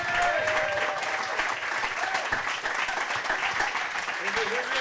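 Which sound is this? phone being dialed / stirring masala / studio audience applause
studio audience applause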